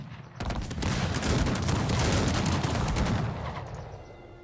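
Dense volleys of musket fire from soldier formations in the Cossacks 3 strategy game, a sustained crackling fusillade lasting a few seconds before tapering off.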